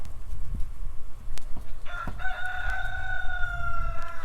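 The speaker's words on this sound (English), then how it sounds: "they weren't crowing before I started this" Roosters crow from about two seconds in, long drawn-out calls with several birds overlapping near and clear, with some clucking and thumps before the crowing starts.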